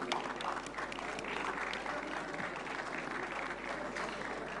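Steady applause from an audience at the Dadasaheb Phalke Award ceremony, a dense continuous patter of clapping at moderate level throughout.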